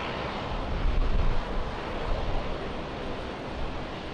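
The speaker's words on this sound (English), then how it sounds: "Our next one to go will be Philippine Airlines direct flight to Manila." A Philippine Airlines jet departing Brisbane Airport gives a steady, loud, broad engine roar that swells slightly early on and holds without a break.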